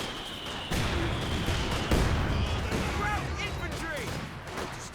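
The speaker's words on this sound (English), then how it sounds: "Just an all-out mortar fight there at the moment." Mortar rounds fire and explode in a Company of Heroes 2 four-versus-four battle on La Gleize, with repeated thumping detonations and scattered gunfire in a busy, continuous battlefield mix.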